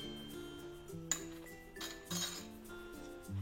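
A metal spoon clinks lightly against a pot while ginger garlic paste goes into mutton curry, with a few faint taps and scrapes over a low kitchen hum.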